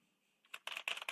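Quick bursts of typing on a computer keyboard, about five close, crisp keystrokes clattering in a short run after a near-silent start.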